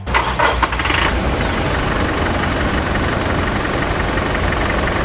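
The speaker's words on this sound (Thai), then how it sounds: "ทุกคนเครื่องเดิมฟิตไม่รั่วไม่ซึม จะบอกว่าสตาร์ติดง่ายมาก ไปฟังเสียงกันเลย" A 2.4-litre engine in a 2022 Toyota Hilux Revo Rocco Prerunner Double Cab, stock and in good condition, cranks briefly and catches at once, then settles into a loud, steady idle close by with no talking.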